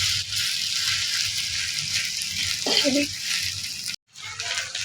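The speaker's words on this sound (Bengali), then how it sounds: "বারবারই নাড়তে হবে এবং একটু সময় ধরে তেলের মধ্যে ভেজে নিতে হবে" Taki fish sizzles steadily in hot oil as it is stirred in a pan, a close, continuous hiss with a brief break near the end.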